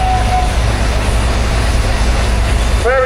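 Massive British-built International B250 crawler tractor with a big twin-exhaust engine running at a steam rally arena, a loud, steady, continuous engine roar close by.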